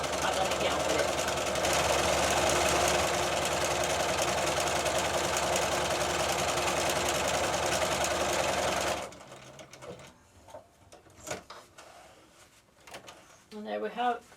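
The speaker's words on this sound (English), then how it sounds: "All I have to do is put the presser foot down and" A computerized sewing machine stitches buttonholes for a cushion's button closure on its own, a loud steady mechanical whir for about nine seconds that then stops, leaving quieter handling sounds.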